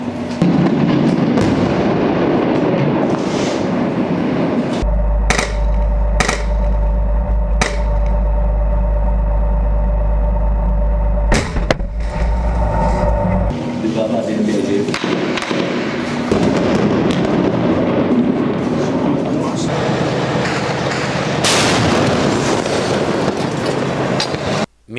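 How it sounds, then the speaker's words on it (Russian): A tank cannon fires in the Jobar district of Damascus, Syria, during fighting in August 2013, several sharp booming blasts standing out above a continuous rumbling din of distant combat. "Сделав выстрел, танк сразу уходит с линии огня."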